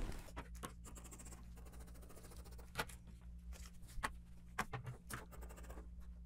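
Hand marking on a paper sewing pattern piece for gym clothing: faint, intermittent scratchy strokes with a few sharper ticks, over a steady low room hum, with no talking.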